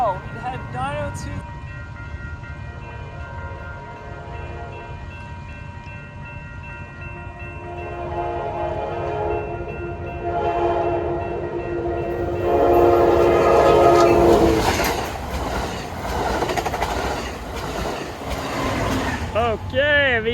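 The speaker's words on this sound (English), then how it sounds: "we got the Amtrak Pacific Surfliner about to fly through Acadia Boulevard. Here it is." An Amtrak Pacific Surfliner led by a Siemens Charger locomotive passes a grade crossing at Acadia Boulevard. The loud horn sounds repeatedly before the train's rumble and wheel noise swell close by, with talk from a nearby person.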